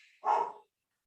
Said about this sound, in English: I don't know why they're barking like that.